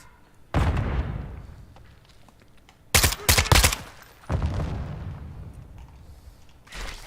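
Gunfire and explosions in the video game Call of Duty: Modern Warfare II, with a sustained rumbling barrage, then a dense cluster of sharp, loud shots, then more heavy rolling fire, all close and with no talk.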